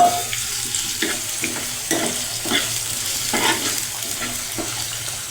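Finely chopped potatoes and mango stirring and sizzling in a pan over medium heat, with repeated scraping strokes of a utensil over a steady low frying hiss.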